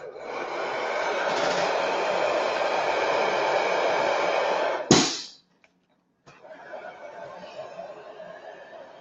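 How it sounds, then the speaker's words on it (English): A hair dryer drying paint on a model blows steadily for about five seconds, then clicks off abruptly; after a short silence, a quieter airflow resumes. "So using my hair dryer, as always."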